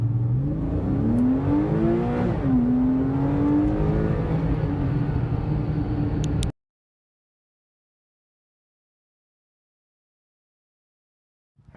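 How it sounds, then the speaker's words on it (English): A stock-exhaust Porsche 987.2 Cayman S accelerates hard off the line, its engine note climbing loud and close through a gear change for about six seconds before cutting to silence. "Here's how it sounds off the line stock."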